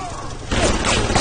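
A sudden burst of rapid gunfire in the video game BioShock cuts in halfway through, loud and crackling after a quieter stretch of background noise.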